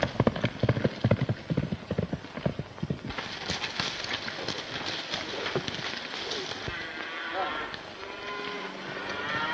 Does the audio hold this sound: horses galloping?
yes